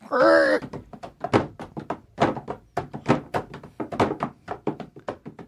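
A door thunks shut in a podcast studio as the hosts head down to a spoiler room, a single close, heavy closing at the start, followed by continuous conversation from several men.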